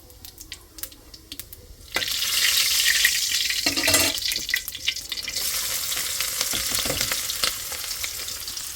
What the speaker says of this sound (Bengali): ভাজি করে নেব তো প্রথমে হলো আমি জিরাটা দেই